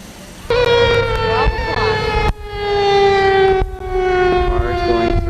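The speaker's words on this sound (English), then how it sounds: "The siren you hear is the 12 o'clock siren" A loud noon civil defense siren on Mackinac Island wails steadily with a rising and falling pitch, sounding several cycles, distant yet dominant, with no other sounds over it.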